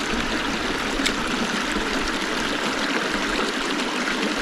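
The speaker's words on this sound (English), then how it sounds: "The creek's actually fairly low at the moment" Shallow creek in remote Tasmanian bush running low over rocks, a steady close burble and trickle of water that holds evenly throughout with no voices.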